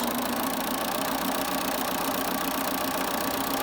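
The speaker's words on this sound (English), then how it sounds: "So come on over here to the sewing machine." A sewing machine runs continuously while stitching a cloth face mask with interfacing and inner fabric, a steady loud motor hum with a dense even whir throughout and no talking.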